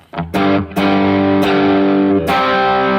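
Distorted electric guitar chords ring out loud and sustained, struck four times in a loose rhythm, each attack blooming into a thick, buzzing, harmonically rich wash that holds between strikes.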